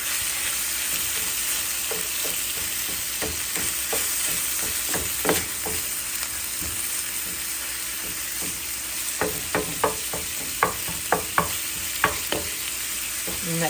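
Garlic and pork sizzle steadily in a hot pan, a constant close frying hiss broken by scattered sharp clacks of stirring, with no voices.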